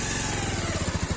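A motorcycle engine putters close and loud in a short stretch of riding on a road, with a quick pulsing beat and no talk.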